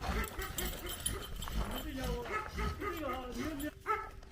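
Stray dogs yip and bark while being fed during a cold snap in northeast China, mixed with whimpers and voices talking over the close, irregular yelps.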